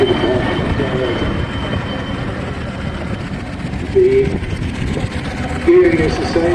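A miniature steam engine drives a generator at an outdoor steam rally, giving a steady, close mechanical chuff and hum throughout, with brief tonal whistles or squeals near the middle and end and some background crowd noise.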